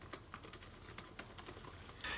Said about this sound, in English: I have no problem touch typing on the keyboard though, but the keys feel quite spongy.